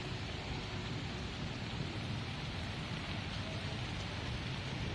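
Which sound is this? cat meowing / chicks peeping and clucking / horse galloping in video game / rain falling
rain falling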